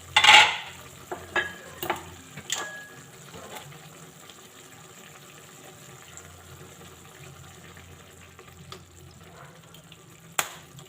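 Igado in a pan gets a splash of vinegar, a short burst of sizzle up front, then a few spoon clatters and a soft, faint simmer under quiet scraping, with one more knock near the end.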